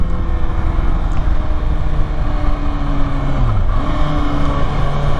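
A 2023 Kawasaki ZX-6R 636 motorcycle engine revving up toward redline, loud and close, its tone climbing, then dropping sharply at a gear change before rising again.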